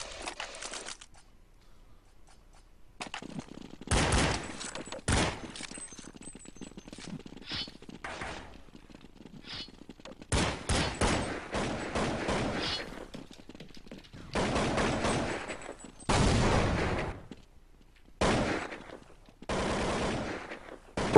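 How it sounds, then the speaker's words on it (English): Gunfire from Counter-Strike on de_inferno during a competitive match: several loud bursts of automatic and single shots scattered over about twenty seconds, separated by quieter in-game ambience. "It's headshot by Kraftik, what a shot"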